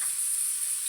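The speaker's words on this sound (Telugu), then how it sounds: "ఆకుకూర మిగిలిపోయింది కదా, కొద్దిగా ఆకుకూర ఫ్రై చేసుకుందామని చేస్తున్నానండి." Leftover leafy greens frying in a pan in a home kitchen make a steady, close, bright sizzle that hisses evenly throughout, with no voices.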